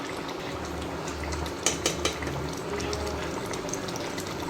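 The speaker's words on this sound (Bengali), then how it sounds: "এবার আমরা নামানোর আগে আমরা এতে অ্যাড করব একটু ঘি।" Ghee going into a cauliflower dish as it cooks in the pan gives a steady close sizzling, bubbling hiss, with a few sharp clinks of a utensil against the cookware midway. No one speaks.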